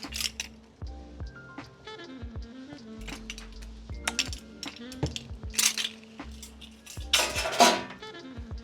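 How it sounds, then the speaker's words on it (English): Metal utensil stirring Swedish meatball sauce in a pot, with irregular clinks and scrapes against the pot rim and sides, close and fairly loud, a low hum running underneath and a louder clatter near the end. "we're gonna go ahead and give that a nice stir"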